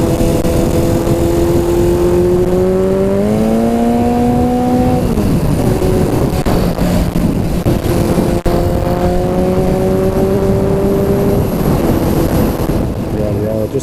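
Yamaha XS1100 cafe racer motorcycle being ridden, its engine droning steadily with rising and falling pitch as it accelerates and shifts, loud and close, with wind noise over the microphone.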